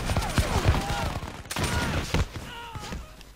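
Musket volleys crackle in Napoleon: Total War as ragged bursts of gunfire from several sources, some nearer and some farther off, mixed with battle noise.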